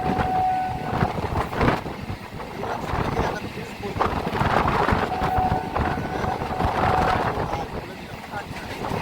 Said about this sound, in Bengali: এই যখন ট্রেনটি তার গন্তব্যস্থলের দিকে ছুটে চলেছে